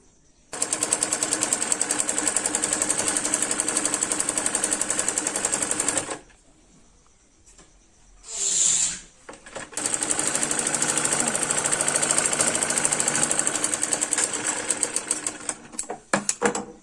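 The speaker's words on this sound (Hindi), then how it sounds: "तो सबसे पहले जो हमने ये कपड़ा लिया है इसको सिल लेंगे।" An electric sewing machine stitches cloth for a Patiala salwar in two long, loud, rapid runs. A quiet pause with a brief mechanical whir separates them, and the second run trails off into a few short bursts.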